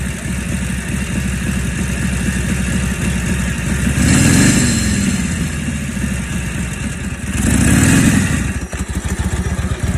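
A 1942 Harley-Davidson WLC 45 military motorcycle runs close by, its engine chugging at a steady idle with two swelling revs, loud and continuous throughout.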